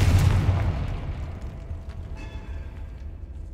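A Confringo explosive spell goes off in Hogwarts Legacy inside a decayed catacomb. A loud, close boom hits at once and then fades into a long rumbling decay with no speech.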